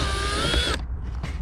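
A power driver whirs loudly up close as it backs out a speaker cover screw on a first-generation Honda CR-V, running steadily then stopping abruptly with a couple of faint clicks after.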